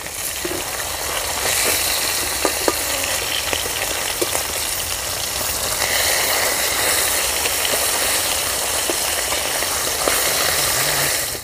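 Pieces of bata fish frying in hot oil in a pan in a village home kitchen, a steady dense sizzle and crackle with scattered sharp pops, close and continuous throughout.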